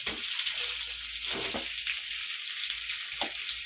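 Radish sautés in a pan for Tamil kara kuzhambu, a close, steady frying sizzle broken by a few brief stirring scrapes and knocks, with no one speaking.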